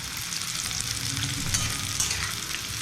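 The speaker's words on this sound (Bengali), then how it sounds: "খুব ভালো করে ভাজতে হবে যাতে কালারও আসে আর পুড়ে যাতে না যায়।" Sliced onions sizzle steadily in hot oil for hilsa fish biryani, a dense continuous crackle with occasional louder pops, close and without voices.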